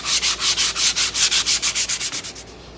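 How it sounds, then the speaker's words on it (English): Hand sanding with a piece of sandpaper along the cut edge of a wooden sideboard shelf, about fifteen quick, even back-and-forth rasping strokes, close and loud, tapering off softer at the end. "Just using a piece of sandpaper by hand just to break that edge"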